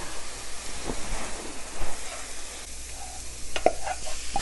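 Kimchi and rice fry in a pan under steady stirring, a constant close sizzle with scattered spatula scrapes and a few sharper clicks and pops near the end.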